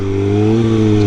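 A motorcycle engine runs close and loud at fairly steady revs, a brief throaty hum with strong, even tones and a slight rise near the end.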